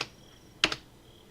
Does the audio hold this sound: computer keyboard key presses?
yes